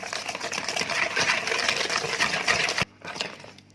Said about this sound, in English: Now we're going to whisk it.